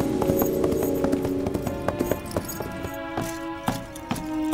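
Horse hooves clip-clop in a busy rhythmic clatter as a group of riders leaves a walled city in an ancient Chinese historical drama, loud and close, with metallic clinks mixed in.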